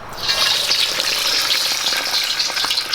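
A test piece of fish drops into hot lard and fries with a loud, dense crackling sizzle that flares up at once and bubbles continuously, close up and with no voices.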